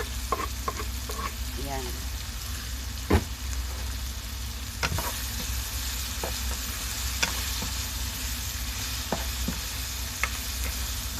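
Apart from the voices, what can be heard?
stirring shrimp paste frying in a pan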